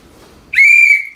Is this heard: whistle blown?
yes